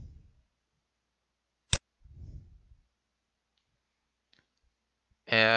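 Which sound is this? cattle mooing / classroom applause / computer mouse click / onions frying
computer mouse click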